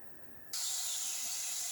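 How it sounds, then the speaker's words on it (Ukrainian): Sausage frying in a pan for a warm salad, a sudden steady sizzle and hiss that starts after a brief quiet moment and continues evenly, close and fairly loud. "Смажиться колбаса."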